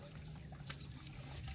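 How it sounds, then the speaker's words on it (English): Water flowing into an RV gray tank during a flush, a quiet continuous trickling and gurgling rush, faint and steady with no talk. "the water's being forced up into the gray tank"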